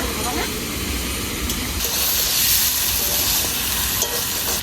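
Mutton sautéed Bengali kosha style in a pan with potato, onion and garlic, giving a steady close sizzle and hiss throughout, with faint stirring scrapes mixed in.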